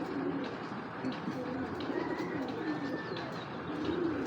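Giribaz pigeons coo steadily in a loft, soft rolling calls layered over one another with faint chirps, close and continuous throughout.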